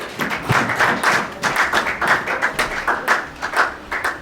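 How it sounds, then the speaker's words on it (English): Church service audience applauding a speaker, a steady run of hand claps repeating in rough bursts for several seconds, fairly close and moderately loud, with a congregation-hall feel. "Clap for him."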